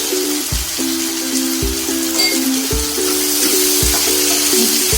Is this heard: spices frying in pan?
yes